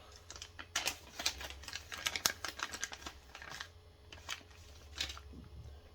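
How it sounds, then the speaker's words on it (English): Plastic packaging for a 9imod 60kg servo being opened by hand, with rapid crinkling, tearing and rustling bursts close by, pausing briefly before more rustling near the end. "here's the package. Let's go ahead and get it opened up and see what we got."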